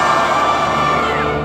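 A chorus of villagers on a pilgrimage screams in horror during an opera scene, a loud, sustained massed cry over orchestral sound that fills the whole moment without a break.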